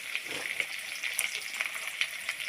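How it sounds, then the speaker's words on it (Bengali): Potatoes frying in hot oil while making a crab and greens dish, with a steady close sizzle and crackling pops that come through clearly on their own. "আলুগুলো একটু ভেজে নেব"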